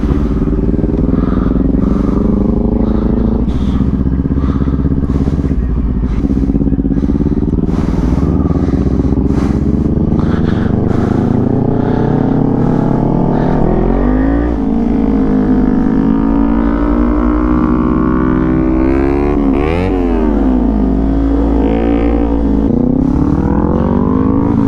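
Kawasaki Z400 motorcycle riding away from a motorcycle meet, a loud close engine running continuously, pitch rising and falling through revving and gear changes over about twenty-five seconds.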